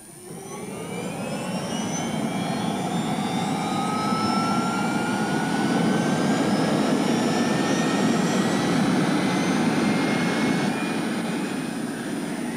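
An EDF helicopter flying along high-voltage power lines on an inspection run, its turbine whine and rotor roar swelling as it nears and holding loud and steady for several seconds, with no talking.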